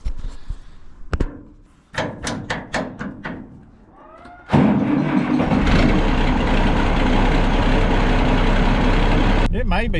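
An old Ford 14 tractor engine cranks with a series of rapid starter bursts, then catches and settles into a loud, steady running rumble as it warms up, with brief sounds and talk near the start.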